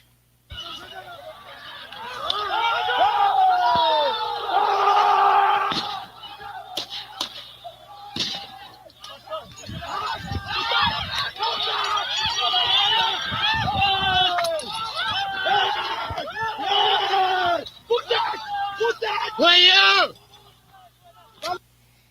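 Residents in Durban chase looters out of their neighborhood, a crowd yelling and shouting war cries in loud, ragged bursts with sharp cries and clatter throughout, briefly easing in the middle before surging again.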